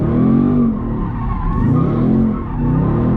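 Loud, continuous tire squeal from a widebody Dodge Scat Pack sliding sideways, mixed with a steady engine roar that swells and dips across the slide.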